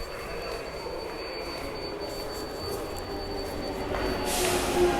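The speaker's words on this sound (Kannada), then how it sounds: "ನಮ್ಮ ಟ್ರೈನ್ ಬಂದಾಯ್ತು ಆಲ್ರೆಡಿ ಹಾಂಗ್ ಬಗ್ಗೆ ಕೇಳಿಸ್ತಿದೆ" A train rumbles steadily nearby on the Shivamogga to Bengaluru route, growing louder toward the end as it approaches the station, with a high metallic squeal rising over the noise.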